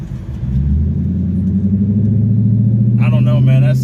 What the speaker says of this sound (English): when I downshift and basically gun it